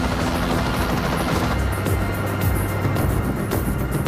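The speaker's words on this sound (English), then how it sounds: "Once airborne, it takes less than 2 minutes by helicopter to get from the tip of Long Island to Plum Island." A helicopter flies over Plum Island off the tip of Long Island, its steady rotor drone and engine rumble holding close and loud throughout with no talking.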